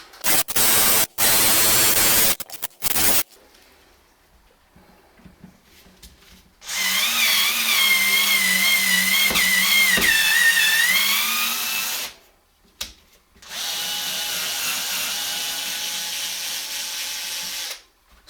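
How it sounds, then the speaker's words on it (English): An electric drill with a 5mm bit whines in several loud bursts into metal, stopping and starting, with a steady high-pitched grinding tone as it bites into the material. "we're starting with a 5mm drill, because that fits through the hole"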